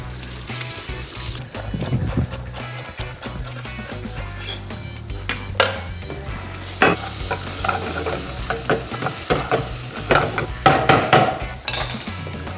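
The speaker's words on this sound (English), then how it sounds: "Onions going into the hot pan." Onions go into a hot pan and sizzle loudly, the frying rising in intensity while a utensil clatters and scrapes against the pan in bursts, close and without talking.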